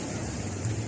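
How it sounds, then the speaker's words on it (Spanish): Sea waves on a beach in El Salvador wash in as a steady broadband roar, close and fairly loud, with a faint swell near the end and no voices. "Y aquí estamos a la par del mar"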